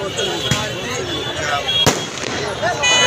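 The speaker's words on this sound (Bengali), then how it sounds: "আর থেকে থেকে আতসবাজি করানো হচ্ছে" Fireworks crackle and pop in a couple of sharp bursts amid a dense outdoor crowd murmur at Cox's Bazar, with sky lanterns being released and voices chattering throughout.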